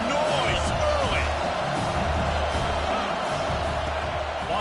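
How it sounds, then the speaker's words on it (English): Dense, steady roar of a football stadium crowd cheering and making noise at a Kentucky Wildcats game, with a commentator talking over it. "This crowd bringing the energy and noise early."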